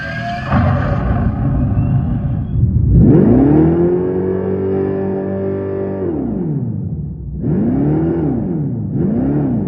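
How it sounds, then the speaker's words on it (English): Synthetic exhaust sound from the onboard speakers of a 2026 Dodge Charger, a droning engine-like tone that rises and falls in pitch in several revving swells, loud and close. "an onboard speaker system played digital exhaust sounds"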